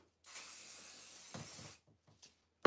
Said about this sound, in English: So we're gonna spray